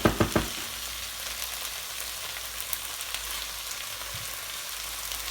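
Spring onion and prawns fry in a pan, a steady close sizzle and crackle after a few opening clanks of utensils, with no talking.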